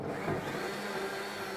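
A countertop blender whirs steadily as it purées a curry sauce for a vegan massaman curry, a continuous close motor drone with no pauses or talk.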